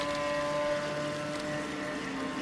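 A small RC boat motor whines steadily at full throttle with a constant buzzing drone, close and unbroken for the whole stretch.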